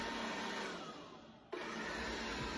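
A DeenKee DK700 robot vacuum cleaner runs with a steady whirring hum that sags briefly, then jumps back to full strength with a sharp click, close and without talk.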